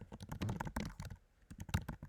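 Keystrokes on a computer keyboard typing answers into a live word-cloud poll, a quick irregular run of close clicks with a brief pause before a final burst.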